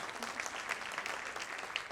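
Applause from a wedding sangeet audience, a dense, steady burst of many hands clapping together, fairly distant and moderately loud throughout.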